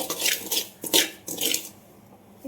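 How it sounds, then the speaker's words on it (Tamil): Samba wheat rattles and scrapes in a dry pan as it roasts, in bursts of stirring that stop and start, loud and close. "நல்லா பொரிச்சிடணும் வெறும் கடாயில் போட்டு."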